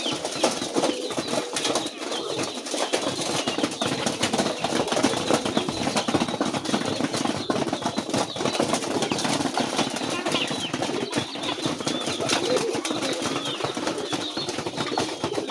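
Pigeons at a colouring Raj Golla pigeon farm flap their wings in a busy, rustling flurry that carries on throughout, close and fairly loud, with a faint mechanical hum beneath and voices mixed in.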